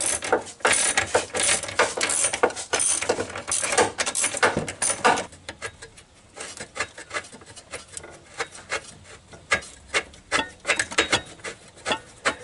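Ratchet wrench with an 18 mm socket, universal joint and extensions turning an engine mount bolt on a Renault Twingo, a rapid, close, loud clicking that comes in repeated bursts, with no talk.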